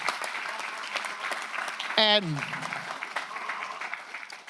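Applause for first responders from the sheriff's department and fire crews at a county board of supervisors meeting, steady clapping across the room throughout, briefly interrupted by a single spoken word.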